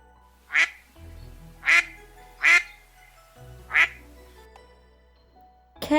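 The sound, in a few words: duck quacking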